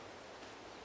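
Rain falls in Farming Simulator 22 as a brief, even, soft hiss with no other distinct sounds on top.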